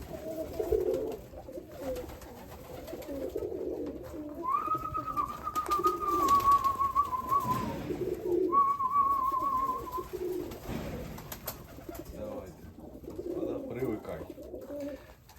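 Young racing pigeons coo softly in a dovecote in repeated low murmuring bursts, with a whistle-like tone partway through and a person speaking nearby.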